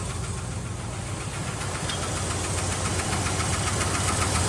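A 1971 Dodge Super Bee V8 idles steadily close by, a loud, continuous rumble with a rough knocking edge that builds slightly and runs alone without talk.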